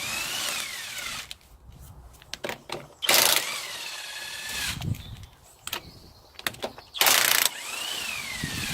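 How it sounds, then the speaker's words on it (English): A power wrench whirs and rattles in short bursts, spinning wheel nuts off a Peugeot 205 GTI race car, with louder hissing blasts and clanks between the runs. "Let's just whiz the wheel off."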